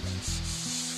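Brief rough scratching of 400-grit sandpaper rubbed quickly back and forth across turned wood, close and fairly loud, with a low hum underneath.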